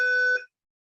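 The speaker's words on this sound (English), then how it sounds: "It sounded like there was a big beep." A single loud electronic beep sounds in a meeting room, a steady tone lasting under half a second before cutting to silence.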